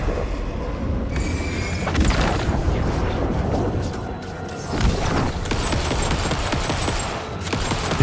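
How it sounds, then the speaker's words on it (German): Sustained, loud gunfire and booming impacts from the video game Alan Wake 2, continuous and dense over about eight seconds with occasional sharper cracks. "Hier wird einfach geschossen"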